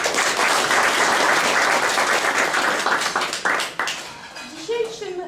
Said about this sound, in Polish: Tu duże brawa